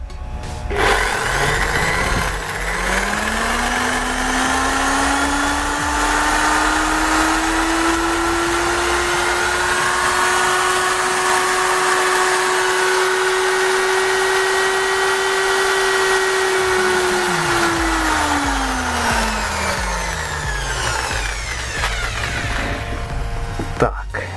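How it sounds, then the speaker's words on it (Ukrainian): An electric drill runs steadily for about twenty seconds, its whine rising as it spins up, holding an even pitch, then winding down near the end, loud and close, with a few background noises. "Беремо нашу дрель."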